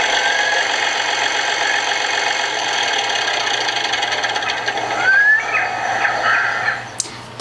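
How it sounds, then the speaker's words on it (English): Tractor engine sound effect from a children's sound book, a steady mid-pitched chugging idle with a faint tonal whine, continuous and fairly loud, ending in a short click. "It has a tractor."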